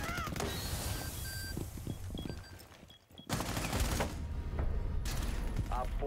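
Rapid bursts of gunfire from a player's weapon in the shooter Rainbow Six Siege, the clatter running nearly the whole time with a short lull midway, loud and close over a background of game noise.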